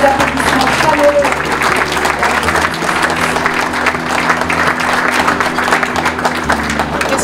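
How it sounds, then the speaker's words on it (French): Warm, steady applause fills the room from a conference audience at an African agriculture and food security summit in Paris, with dense clapping sustained throughout. "sous les applaudissements chaleureux."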